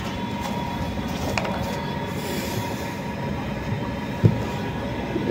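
A train runs past tea gardens near Sreemangal, Moulvibazar, with a steady close rumble, metallic wheel squeal and one sharp clank near the end, heard alone without voices.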